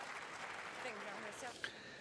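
Snooker crowd at the UK Championship semi-final applauding an exhibition shot, a steady patter of clapping under a commentator's voice.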